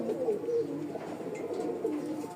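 Pigeons in a loft cooing continuously, soft low rolling coos overlapping from several birds nearby, with no talking.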